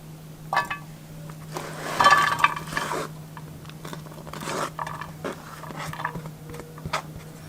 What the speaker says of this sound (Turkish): Evet, soğanımız hazır. Bunu tavaya alalım.